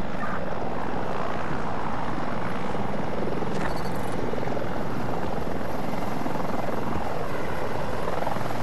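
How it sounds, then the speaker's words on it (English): An attack helicopter's rotor in a video game thumps loudly and continuously, close and steady, with a rushing engine roar filling the background. "Is that an attack chopper?"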